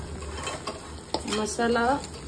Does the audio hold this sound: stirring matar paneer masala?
yes